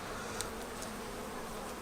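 Honey bees hum in an opened hive, a faint, steady drone with a few brief louder buzzes of single bees flying close.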